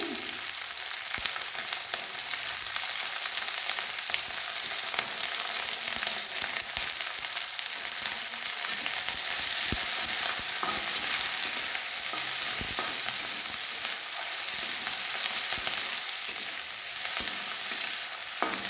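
Chopped onions sizzle steadily in a hot oiled pan with garlic, a continuous bright frying hiss with occasional stirring scrapes, close and fairly loud, no talking.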